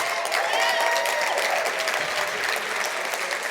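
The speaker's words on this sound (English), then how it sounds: "Yeah, clap." A union convention audience claps, steady and close for several seconds, with a few faint voices mixed into the applause.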